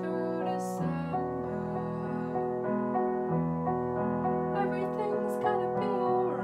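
Solo piano plays the first verse of a slow ballad in a gentle arrangement, sustained chords under a gentle melody, close and moderately soft, with no talking.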